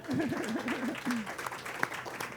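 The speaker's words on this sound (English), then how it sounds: "Can we get a round of applause for her?" Audience applause at a wellness challenge finals event, moderate clapping spread across the room under a voice speaking at the start, fading somewhat toward the end.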